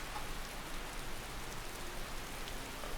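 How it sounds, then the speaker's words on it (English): Rain falls in the video game Skyrim as a soft, steady hiss of drops, faint and continuous, with no other sounds. "It's raining in here."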